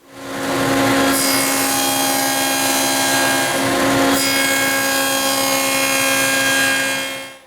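Cutting the long side of tenons on workbench stretchers produces a steady, tonal whine of sawing through wood that starts abruptly, holds loud and even for about six seconds, then fades out, with no talking.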